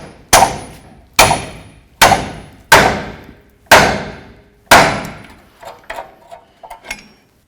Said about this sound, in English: Go ahead and grab your pickle fork and your hammer and separate this.